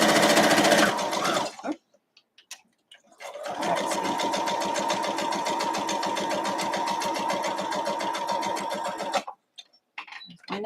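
A sewing machine stitches a Santa hat quilt block, running in a long steady burst of rapid, even needle strokes after a few brief starts and stops, close and loud with no talking.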